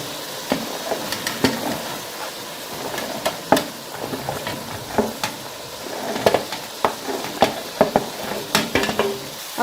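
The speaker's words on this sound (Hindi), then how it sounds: "अब भिंडी को इन मसालों के अंदर अच्छे तरीके से मिक्स करना है" Okra stirred into fried spices in a pan, sizzling steadily while a spoon scrapes and knocks against the metal in irregular strokes throughout, close and fairly loud with no talking.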